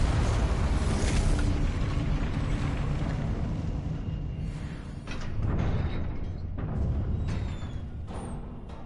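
A Confringo blasting spell going off in Hogwarts Legacy, a loud booming explosion with a long roaring rumble that fades slowly, followed by a few smaller crackling impacts.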